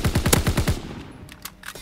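Rapid automatic gunfire from a World War II video game, a loud close burst of about eight shots in quick rhythm, then scattered fainter distant shots.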